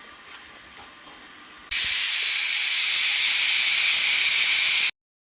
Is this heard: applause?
no